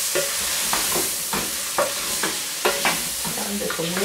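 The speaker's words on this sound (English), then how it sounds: "I turn the tomatoes." Tomatoes frying with beef, onions and grated ginger in a pan, loud steady sizzle under repeated rhythmic scraping stirs of a spoon, close up, with no talking.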